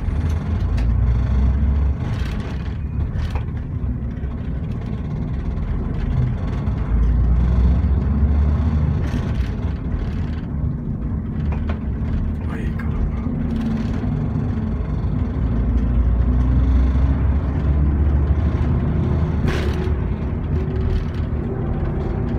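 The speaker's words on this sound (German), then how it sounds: "Mercedes Conecto O345 mit 6-Gang-Schaltung" A Mercedes Conecto O345 bus with a six-speed manual gearbox and 250 horsepower engine drives along with a loud, continuous diesel rumble, its engine note rising and falling through gear shifts, heard from inside the cabin.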